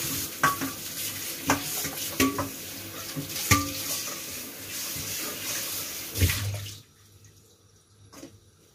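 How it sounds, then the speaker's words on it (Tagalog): Vegetables and shrimp sizzle and get stirred in a hot pan for suwam na mais, with scraping utensil knocks over steady frying hiss, close up, until the sizzle drops away near the end. "lutuin lang natin yung gulay, tapos lagay na natin yung hipon"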